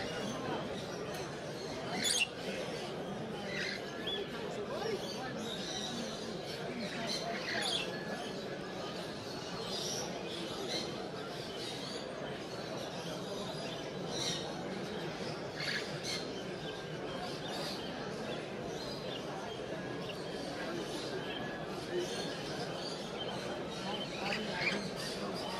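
Parrots at a bird sale show give scattered sharp squawks and chirps, near and far, over a steady crowded indoor background hum, with no clear speech.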